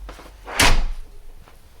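A kitchen door, spray-foamed around its edges for airtightness, closes with a single sharp thud-like slam in a quiet room, followed by faint rustling.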